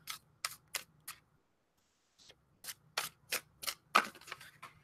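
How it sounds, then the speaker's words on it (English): Tarot cards being overhand shuffled by hand, sharp papery riffs in quick bursts, a run of four, a pause, then another burst of several, close and crisp in a quiet room. "My hands are almost not big enough for even overhand shuffling."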